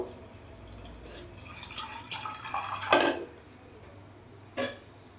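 Water splashes from a vessel onto chana dal with salt and turmeric in a home kitchen, a short burst of splashing and pouring up close, followed by a quieter pause and one final splash.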